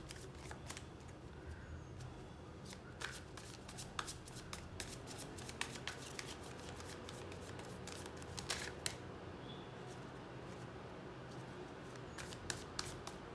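A deck of tarot cards is shuffled by hand, a close, quiet run of crisp riffling flicks and soft slaps repeating steadily, with no talk over it.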